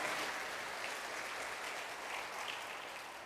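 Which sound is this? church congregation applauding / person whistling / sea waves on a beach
church congregation applauding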